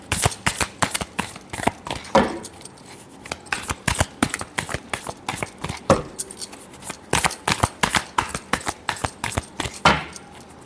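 Tarot cards shuffled by hand in a rapid run of crisp riffling snaps and flutters, close and loud, continuing in bursts throughout with no talking.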